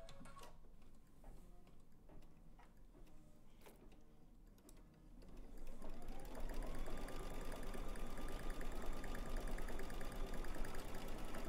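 An embroidery machine stitching thread onto fabric held in a hoop sits faint and idle with a few soft clicks, then starts up with a rising whir and settles into a steady, rapid mechanical chatter.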